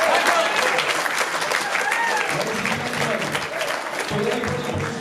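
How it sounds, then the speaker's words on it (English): Wedding guests break into loud, sustained applause indoors, a dense clapping wash with cheering voices mixed in and the crowd murmuring underneath. "Big round of applause for Michael"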